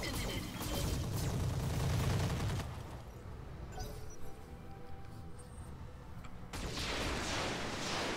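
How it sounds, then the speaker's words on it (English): Mech weapons fire in a barrage in the video game Roguetech, a dense burst of gunfire and explosions up front that drops into quieter rumbling, then another loud volley of fire at the end. "Let's fire everything at this guy."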